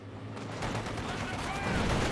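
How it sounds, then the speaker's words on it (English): Rapid machine gun fire in a war video game, a dense continuous burst of gunfire cutting through game battle noise with a voice talking over it. "That machine gun just penetrated almost every bullet there."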